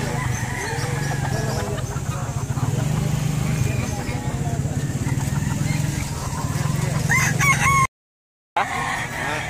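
A red junglefowl (labuyo) rooster crows repeatedly at close range amid clucking fowl, while people talk over it throughout.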